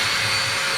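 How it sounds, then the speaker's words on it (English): A power drill whines steadily while boring holes to mount support brackets on a boat, loud and continuous through the whole short burst. "I'm drilling holes to mount my cute little support brackets that I've made"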